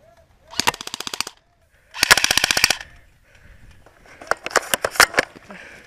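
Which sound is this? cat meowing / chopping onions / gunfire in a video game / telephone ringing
gunfire in a video game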